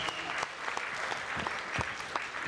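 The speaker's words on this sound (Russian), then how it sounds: "Ваши аплодисменты доблестному контрабасисту Мурашкину." A concert-hall audience claps for a double bass player at a competition, loud, dense applause with a few sharp individual claps standing out above the steady patter.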